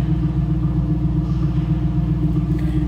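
A 2002 Pontiac Firebird Trans-Am WS6 convertible idling, its throaty exhaust a steady deep rumble, heard close and continuous without talk.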